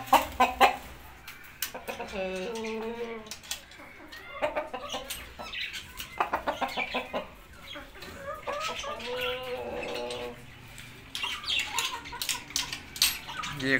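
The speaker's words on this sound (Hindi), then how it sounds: "ये एक टर्की है," A farmyard turkey calls in bursts of harsh clucking and gobbling, close and fairly loud, with short pauses between rapid runs of notes and no talking.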